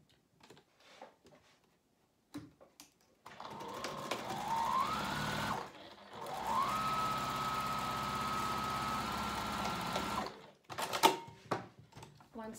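Fabric panels for a foldover pouch are stitched together on a sewing machine, two sustained whirring runs with a brief stop between them, framed by soft clicks and handling noises.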